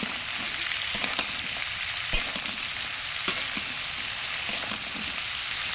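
Small chiti crabs cook with three or four kinds of vegetables and jackfruit seeds in a pan, giving a steady, dense sizzle with occasional sharp pops and light stirring clicks close by.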